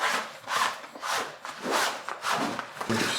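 Rigid PVC pipe sliding and scraping against a homemade spray deck on an inflatable kayak, a series of rough rubbing strokes of moderate loudness, close by with no talk.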